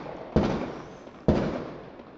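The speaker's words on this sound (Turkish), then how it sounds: "Benden çok büyük silah sesleri gelebilir korkmayın." Two sharp New Year's firecracker or gunshot bangs about a second apart, loud and echoing over a steady background hum, with no talking.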